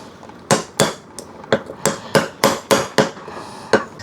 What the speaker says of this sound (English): I'm just taking kind of like a pick and a little hammer to kind of push them through.